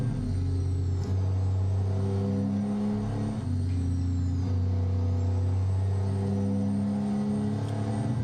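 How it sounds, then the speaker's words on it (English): A Kenworth W900 truck with a DD60 engine in American Truck Simulator, its Jake brake giving a loud, continuous low droning rumble with steady tonal bands and little change in level. "Jake Brake is part of the game, part of the trucks. The sound of them, though, you know, comes from the mods that you're using"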